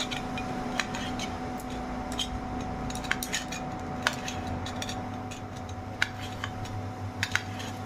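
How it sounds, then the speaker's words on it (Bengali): A small tomato chopped into little pieces with a knife on a board, giving scattered sharp taps at an uneven rhythm over a low steady hum, close and fairly quiet. "টমেটোটাকে এবার ছোটো ছোটো করে কেটে নেব।"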